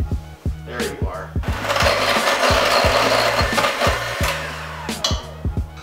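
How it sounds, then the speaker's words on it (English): An electric mixer runs on high speed creaming butter and brown sugar for cookie dough, a steady loud whirring and grinding with rhythmic beaters knocking against the bowl. "mix this on high speed for about 4 minutes"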